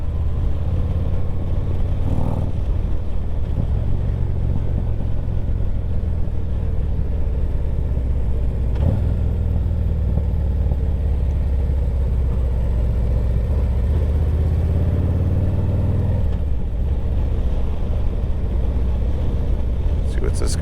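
A Harley-Davidson Street Glide motorcycle engine runs with a low, steady rumble that swells and fades slightly as it rides along, with light clatter mixed in.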